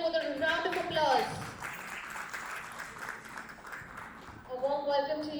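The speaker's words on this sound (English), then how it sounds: "Can we please welcome him with a round of applause?" An audience at a marketing conference welcomes a speaker onto the stage with steady applause. Clapping fills the middle of the clip, and an announcer's voice is heard at the start and again at the end.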